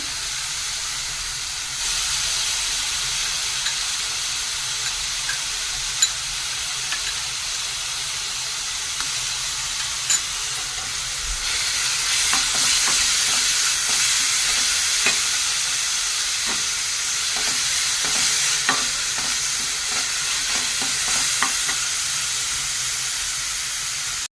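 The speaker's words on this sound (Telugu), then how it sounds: "ఇప్పుడు అల్లం వెల్లుల్లిపాయలు పేస్ట్ వేసుకుందామండి." Ginger garlic paste frying in a pan after fish frying, a continuous hissing sizzle that grows louder midway, with scattered light crackles and occasional utensil taps.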